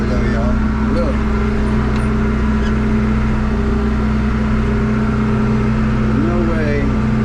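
A backhoe engine runs loud and close with a steady droning hum throughout, while someone talks over it.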